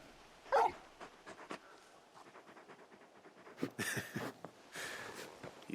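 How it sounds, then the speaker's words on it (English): Torgal, the large wolf-dog companion in Final Fantasy XVI, whimpers and pants in soft bursts, with a louder yelp early on and faint breathy sounds over quiet game ambience. "You're just a big puppy, aren't you? A very big puppy."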